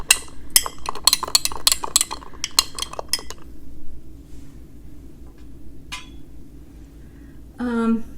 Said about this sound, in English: I'll stir it some more.